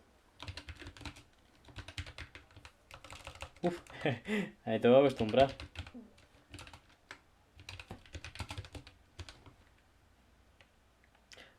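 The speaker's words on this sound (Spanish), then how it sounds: "vamos con la prueba de este nuevo teclado." Clicky keystrokes on a Keychron K1 Version 4 wireless mechanical keyboard, bursts of rapid close-up typing with pauses, while someone speaks briefly in the middle.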